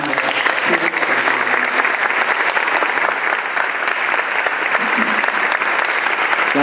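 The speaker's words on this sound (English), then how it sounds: "Can we have one more round of applause" An audience in a hall gives a sustained round of applause for the Cardinal, dense and steady throughout, with faint voices underneath.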